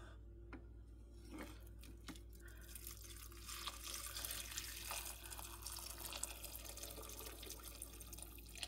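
Vegetable broth pours steadily into a pot of lentils, a soft continuous splashing trickle heard close but faint over a low background hum, with no talking.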